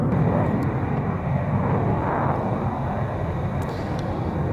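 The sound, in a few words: Polish Air Force MiG-29 jet fighter performing a pull-up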